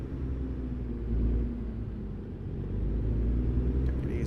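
Truck rolling along in American Truck Simulator, a low steady engine rumble with a gentle swell as it pulls forward, heard alone without talk.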